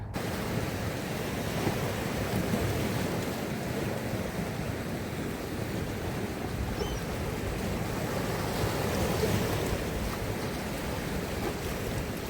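Continuous sea waves washing in, a steady broadband roar with gentle swells, with no voices.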